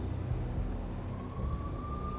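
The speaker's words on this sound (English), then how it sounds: "The NYPD was closing in. I could hear the sirens. Their wail was a crescendo." Police sirens wail in the Max Payne video game amid a noisy city backdrop; a single rising siren tone emerges partway through and holds steady, fairly faint under the dense traffic-like rumble.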